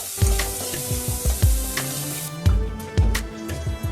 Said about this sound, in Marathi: एक छोटा बारीक चिरलेला कांदा घालायचा दोन बारीक चिरलेल्या हिरव्या मिरच्या घालायच्या सर्व व्यवस्थित परतवून घेऊयात